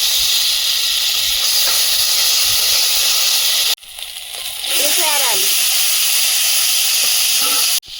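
Loud, steady hiss of hot fish-frying oil, briefly cut off, then a burst of crackling sizzle as five-spice seeds hit the oil, followed by continued hissing.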